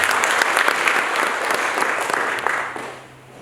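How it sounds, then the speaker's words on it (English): Steady applause from a crowd, dense and lively, holding for a few seconds before tapering off toward the end. "Let's clap for ourselves."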